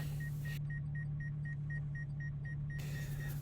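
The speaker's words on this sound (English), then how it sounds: "That little beeping you hear is my drone" A steady, rapid series of thin high beeps from a drone repeats over a constant low rumble, continuing evenly throughout.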